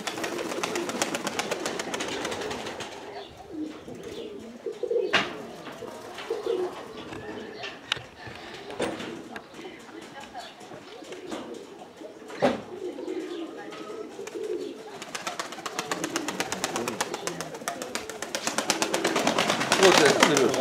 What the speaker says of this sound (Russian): Смотришь, совсем другой голубь стоит.